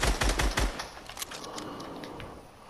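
Rapid automatic gunfire in the Fortnite video game, a loud burst of quick shots up front that trails off into scattered fainter shots and echoing impacts.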